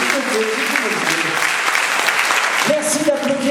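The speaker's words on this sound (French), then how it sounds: "donc merci d'applaudir Isabelle." Loud, sustained applause from a theatre audience at a French comedy show, steady clapping filling the room with a voice speaking over it.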